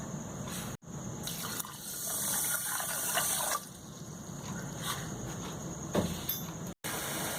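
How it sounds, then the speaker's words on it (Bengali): Water pouring into sugar in a pan to make sugar syrup for a sweet, a steady close gushing fill lasting several seconds with brief breaks and a few clinks, no voices. "250 ml চিনির সাথে 250 ml জল মিশিয়ে চিনির শিরা তৈরি করতে হবে।"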